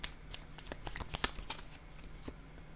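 Cards shuffled and drawn for a card reading, a quiet close series of quick papery riffles and flicks lasting a couple of seconds.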